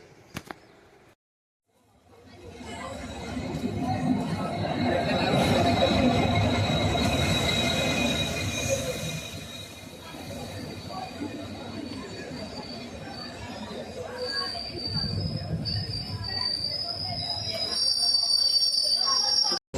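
A train rumbles steadily along the rails with a broad low roar, a thin metallic squeal running high above it, growing louder toward the end.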